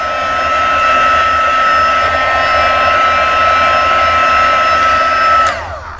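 A heat gun blows loud and steady while melting embossing powder for heat embossing on a paper craft, a constant whooshing whine that cuts off and winds down near the end.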